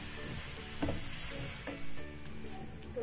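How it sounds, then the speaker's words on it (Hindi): Amla and fenugreek sabzi stirred and roasted in a pan, a soft continuous sizzle with a few scraping stirs, close and alone without speech. "इसको थोड़ी देर और चलाकर भूनेंगे"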